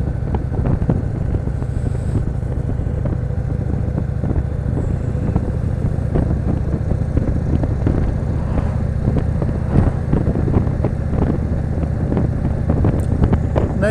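A 2016 Indian Chief Vintage motorcycle with its stock exhaust rumbles steadily while riding, a low throaty drone mixed with heavy wind buffeting at the microphone for the whole stretch, with no talking.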